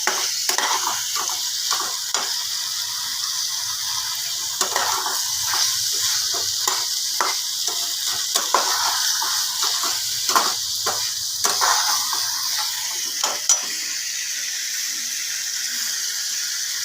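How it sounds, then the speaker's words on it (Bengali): Water poured into a cooking pot of pappad kalia spiced with Kashmiri chilli powder, a steady hiss of sizzling and bubbling with intermittent stirring clinks and scrapes, fairly close and without voices. "জল ঢেলে দিলাম।"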